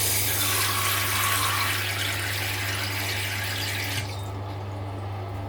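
Filtered tap water runs steadily into a container in a kitchen, a continuous close rushing flow with a low hum underneath that eases slightly near the end.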